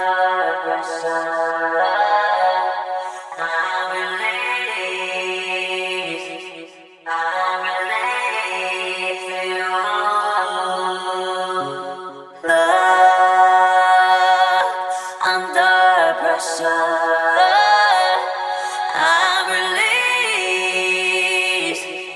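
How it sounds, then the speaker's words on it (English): Vocal lines processed through two vocoders, each sent to a ping pong delay, form robotic, chordal singing phrases with echoing repeats that sustain continuously across the passage. "I'm sending these two vocoders to their own delay just to create a little more space"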